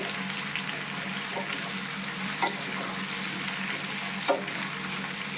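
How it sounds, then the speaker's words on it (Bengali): Raw mango pieces frying in oil for a sweet-sour pickle, a steady soft sizzle with a couple of brief stirring scrapes, close and fairly quiet, no voices. "তেলের সাথে আমগুলো একটু ভালো করে ভেজে নিচ্ছি।"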